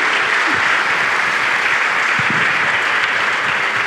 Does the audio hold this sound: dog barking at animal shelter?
no